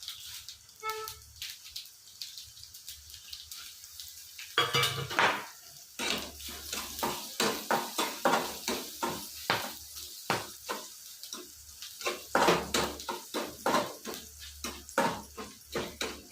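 Coriander seeds and chillies fry in hot oil, with a soft sizzle under repeated scraping and clinking as a utensil stirs them around a metal pan, in busy irregular bursts throughout.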